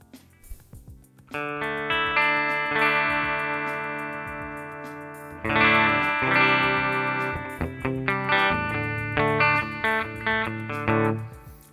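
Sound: electric guitar through NUX MG-101 clean Deluxe River amp model

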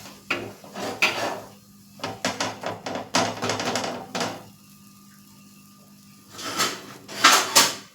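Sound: stirring mixture in a pan

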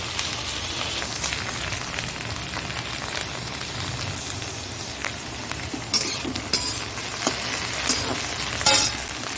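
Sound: okra frying in a pan

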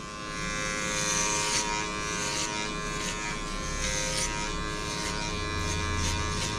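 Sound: electric hair clippers trimming around the head

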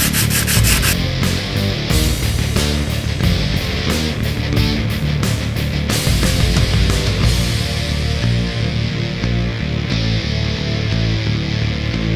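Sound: sanding with sandpaper

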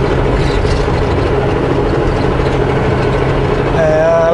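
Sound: truck engine straining, tires spinning on snow

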